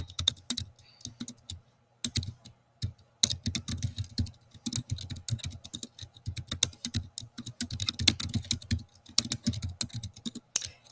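Someone types an account name on a computer keyboard in quick, uneven bursts of close clattering keystrokes, with short pauses between runs and no talking.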